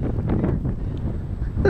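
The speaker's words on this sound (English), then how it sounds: "It's so windy." Strong outdoor wind buffeting the microphone at an RC airplane combat event, a loud, continuous low rumble with gusty swells throughout and no clear talking.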